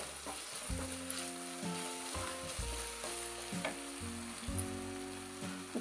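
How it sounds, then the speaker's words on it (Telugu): Prawns frying with ginger garlic paste in a pan, a steady close sizzle with repeated stirring scrapes and taps, no talking. "1 స్పూన్ అల్లం వెల్లుల్లి పేస్ట్ వేసుకొని పచ్చివాసన పోయే వరకు కొద్దిసేపు వేయించుకొని"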